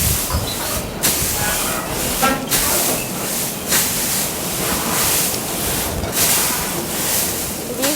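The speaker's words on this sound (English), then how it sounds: "it's really windy and the roof on these are like tin, so they make so much noise." Strong wind batters the tin roofs at a livery yard, giving a loud, continuous roaring hiss with gusts and faint creaks, heard up close with no voices.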